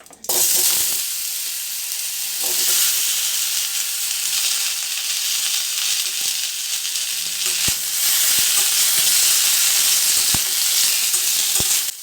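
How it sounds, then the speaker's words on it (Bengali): Whole cumin seeds and a pinch of asafoetida sizzle loudly in hot mustard oil in a wok, a dense, steady crackling hiss broken by a few sharp stirring clicks, close up with no talking. "এতে কিছুটা গোটা জিরে আর সামান্য একটু হিং দিলাম।"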